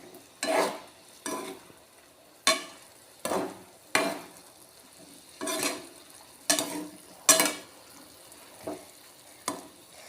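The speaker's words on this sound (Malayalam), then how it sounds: "ചിക്കന് പൊടിഞ്ഞു പോകാത്ത രീതിക്ക് ഇളക്കിയിട്ട്" Chicken being stirred in a pan for a sweet jaggery-syrup snack, heard as a series of short scraping, sizzling strokes spaced irregularly over several seconds, fairly close with no talking.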